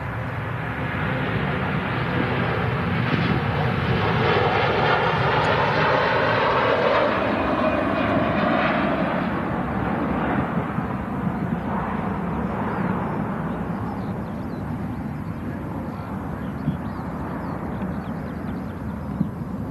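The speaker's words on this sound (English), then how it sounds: "What a beautiful departure. A330 climbing out of Manchester." An Airbus A330 climbs out of Manchester on departure, its jet engines a loud, close, rising roar with a sweeping tonal whine that peaks early, then fades gradually into a lower, receding rumble.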